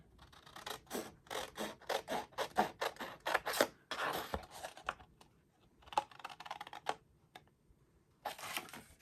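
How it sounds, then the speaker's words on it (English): Close, quiet snips and rasping cuts of scissors through a stiff paper file folder, coming in quick irregular bursts with short pauses between. "we're going to use my scissors"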